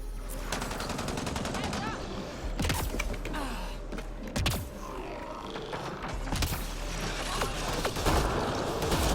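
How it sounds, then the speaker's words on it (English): Shotgun fire in the video game Mass Effect Andromeda rings out as repeated sharp blasts amid other gunfire and mechanical clanks, loud and dense across the battle. "That's the shotgun still."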